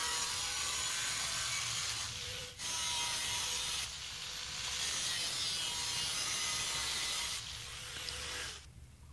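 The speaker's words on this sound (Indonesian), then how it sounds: "Lalu kita gerinda setelah digaris." An angle grinder cuts a light steel fence profile along a marked line, a loud harsh grinding rasp running continuously and close with a couple of brief breaks.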